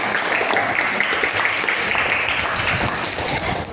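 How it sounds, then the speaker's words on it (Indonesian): Classroom applause from students right after a round of rhythmic clapping games, a steady dense wash of hand claps filling the whole moment without pause. "Tepuk tangan kita semua."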